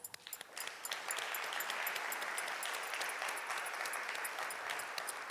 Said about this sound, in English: So join me for a round of applause.